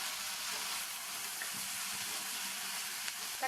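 Chopped medium-sized tomato and curry leaves sautéing in a pan for a broad bean masala, a steady close sizzle and crackle throughout with no talk.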